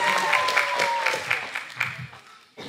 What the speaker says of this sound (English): Let's have one last round of applause for all the little monsters.